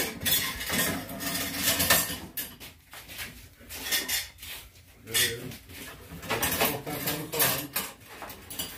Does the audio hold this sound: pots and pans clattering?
yes